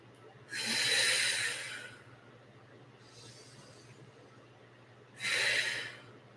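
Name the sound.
deep breathing during a yoga pose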